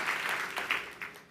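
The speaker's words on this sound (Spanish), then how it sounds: "denle un fuerte aplauso al Señor" Brief, moderately faint applause from a church congregation, a soft wash of clapping lasting only about a second.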